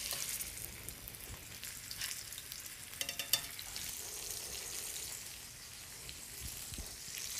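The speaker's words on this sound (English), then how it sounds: "we're going to go ahead and just place these into the saute pan" Flour-dusted wrapped fish frying in a saute pan, a steady quiet crackling sizzle with a few sharper pops and spatters, close by and continuous, no voices.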